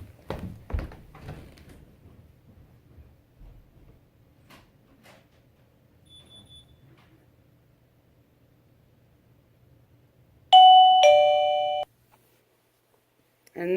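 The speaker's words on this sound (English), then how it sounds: "every time the doorbell rings, this thing is going to fire up" A PLZ WiFi video doorbell is pressed and its wireless chimer answers with a loud electronic chime of about a second, coming after some handling noise and a long quiet stretch. A second tone starts at the very end.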